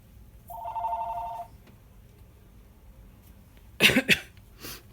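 A phone rings once in a short electronic trill indoors during a lap book crafting session, followed a few seconds later by a couple of sharp coughs.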